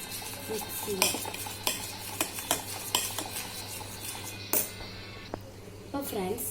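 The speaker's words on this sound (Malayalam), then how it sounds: "നന്നായിട്ട് മിക്സ് ചെയ്യാം." A spoon stirring banana juice in a vessel, with a run of bright metallic clinks and scrapes at an irregular pace, fairly close, while a person talks softly underneath.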